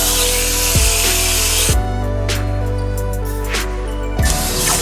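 A grinder whines loudly and steadily against a boat's stern tube surface, scuffing it before mounting, with the pitch dipping briefly several times as the tool bites.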